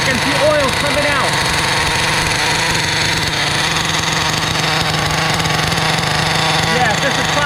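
A 1/5-scale Thunder Tiger nitro motorcycle with an exhaust leak runs steadily, its small engine buzzing loudly and continuously close by, while a voice talks underneath.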